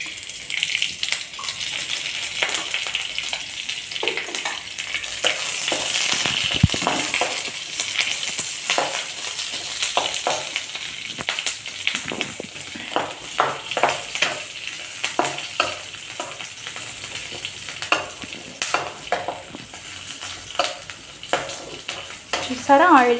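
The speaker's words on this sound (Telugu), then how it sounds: "చూసారా, ఆయిల్ కొంచెమైనా ఎంత మంచిగా ఫ్రై అవుతున్నాయో" Ivy gourd frying in about a teaspoon of oil makes a steady crackling sizzle, broken by frequent scraping and stirring strokes from a spoon in the pan.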